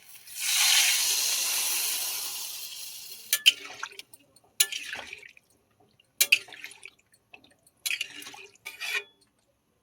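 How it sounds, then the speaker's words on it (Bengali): Water poured into a pan of cooking curry bursts into a loud hissing rush that slowly fades, followed by several short bubbling, spattering sputters with quiet gaps between them. "এবার জল দিয়ে দিই।"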